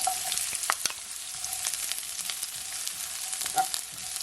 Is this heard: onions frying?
yes